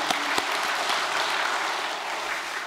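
Applause rises from an audience at a Korean church-style gathering, a dense, steady clatter of clapping hands lasting throughout, with a few sharper individual claps near the start and no voices.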